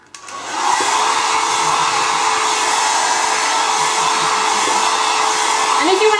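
A hair dryer starts up and runs at a constant loud whir with a steady tonal hum while hair is blow-dried, close to the listener and without speech.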